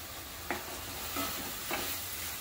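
Brinjal and dried shrimp fry in a pan for a Konkan dry dish, a continuous sizzle broken by three distinct scraping strokes of a spoon, near and alone.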